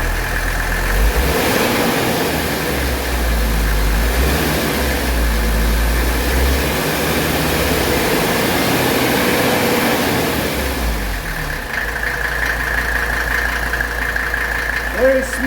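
A 1985 Mercedes 300D diesel engine idles smoothly and steadily after starting quickly, a close, loud low rumble with a brief rev near the end, while someone talks over it.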